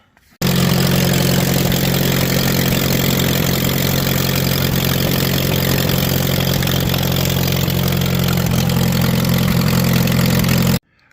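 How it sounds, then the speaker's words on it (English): A tractor engine idles steadily and loudly for about ten seconds, its exhaust manifold holed so the exhaust leaks, giving a constant low throbbing rumble with rough ticking and no voices. "It's running good, but like you guys just saw in that little video, we got some holes in the exhaust manifold."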